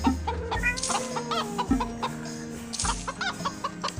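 Chickens cluck in a hen house in the farming video game Blockie Farm, short bursts of clucking repeating over a light, steady game background.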